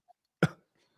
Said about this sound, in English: He's coughing up a lung.